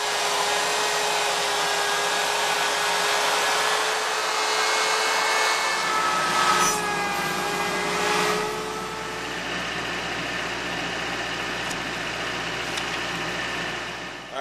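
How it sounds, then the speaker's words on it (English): A handheld router fitted with a roundover bit eases the corners of a wooden piece, giving a continuous loud high-pitched motor whine with slight shifts in pitch as it cuts, steady throughout with no talk. "we're just going to ease off these corners with this roundover bit and our router"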